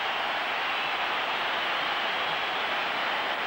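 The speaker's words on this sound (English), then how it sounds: "The big cheer going around the ground is because Henrik Larsson may well be about to enter the fray." A big cheer rolls around Celtic's football ground as Henrik Larsson warms up, a dense, steady crowd roar filling the stadium throughout with no single voice standing out.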